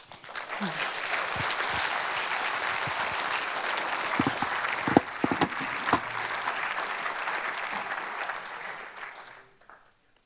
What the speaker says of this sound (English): a big hand of applause for them